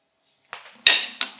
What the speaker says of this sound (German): in die Masse werden wir jetzt 2 Esslöffel vom neutralen Öl reinrühren